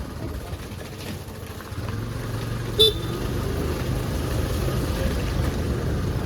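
A steady scooter engine drones while riding through traffic in Santiniketan, and a single short horn toot sounds midway.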